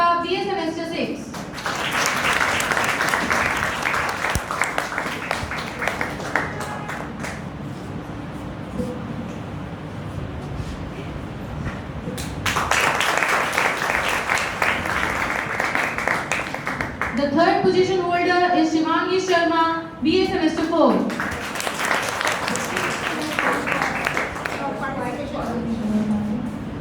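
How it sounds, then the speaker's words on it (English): An audience claps at a college elocution and prize distribution ceremony, with loud bursts of applause rising and fading in several waves while a presenter speaks between them over a microphone. "Please clap, guys, they deserve it."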